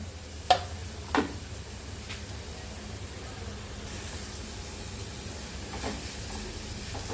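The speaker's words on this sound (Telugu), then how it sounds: "ఫస్ట్ అయితే ఆయిల్ వేసుకుని ఇట్లా ఆనియన్స్ వేసుకుందాము" Sliced onions dropped into heated cooking oil hiss and sizzle steadily. A couple of short clinks sound at the start, then a broad, continuous frying hiss grows fuller and stays close and fairly loud.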